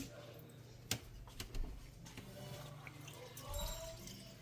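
Water poured into a bowl of leftover cabbage while making cabbage soup: faint, low splashing and trickling with a few brief spurts, quiet and close with background noise.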